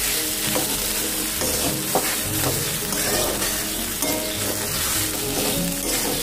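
A salted bread roll filling is stirred and sautéed in a pan, giving a steady close sizzle under frequent scraping and mixing strokes from a spatula, with no voices.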